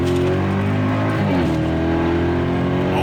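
A BMW 550GT wagon with a ZF 8-speed pulls hard with the window down, its engine and exhaust droning loud and close through a firm upshift, with no talk over it.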